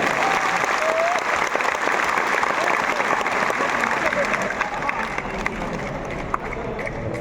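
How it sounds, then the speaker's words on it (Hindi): Sustained clapping from a large crowd at a political party gathering, steady and loud throughout, with no break. "जोर से ताली बजाएं"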